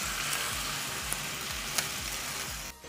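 Spicy pork adobo with garlic and onion is stirred in a hot pan, a dense close sizzle over a rhythmic series of low scraping pushes, about one every half second.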